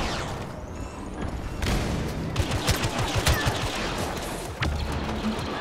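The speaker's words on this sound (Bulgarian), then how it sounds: "че някой ме стрелял гръб" Blaster gunfire in a Star Wars video game, dense bursts of rapid shots and impacts overlapping in a chaotic firefight, loud and continuous.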